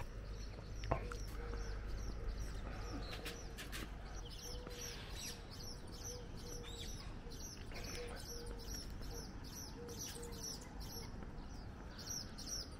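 Birds chirp and coo outdoors in Maspalomas, Gran Canaria, with faint repeated twitters and soft dove-like calls over a low background hiss and distant noise.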